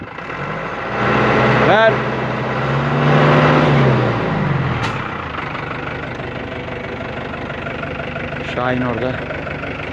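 A parked car's engine revved a few times on request, with rising and falling bursts over a rough idle, close by, while someone talks over it.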